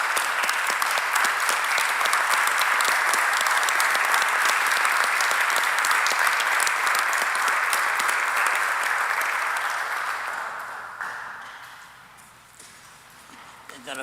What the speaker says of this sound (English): I would like to have you all join me as we give a round of applause to Mr. Peter Iridici for the job well done.